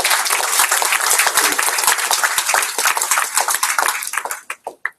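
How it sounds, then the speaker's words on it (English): An audience applauds at the closing ceremony of a British Championships event, a brisk burst of clapping that thins out into a few scattered claps at the end. "she deserves a clap as everybody else has, Dinah Norman."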